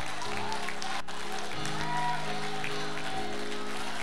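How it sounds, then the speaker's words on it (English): A church congregation claps their hands during worship, a dense wash of steady applause over sustained keyboard or organ chords, with no talking. "come on, clap your hands and open up your mouth."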